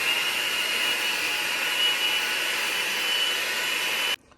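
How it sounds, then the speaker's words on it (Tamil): Electric mixer whirring steadily as it beats cream cheese for a cheesecake, a loud continuous motor drone with a high whine, running alone for about four seconds before cutting off abruptly. "இந்த க்ரீம் சீஸை பீட் பண்ணிக்கலாம்."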